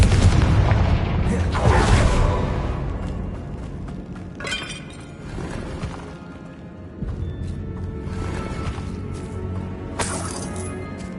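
Confringo spell explosions in the video game Hogwarts Legacy, heavy booming blasts with shattering debris and rumbling decay, loud and close, several bursts over a dense game soundscape.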